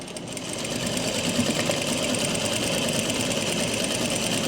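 A sewing machine stitches a belt onto palazzo pants, running as a steady, fast mechanical whir and clatter close by, with no talking.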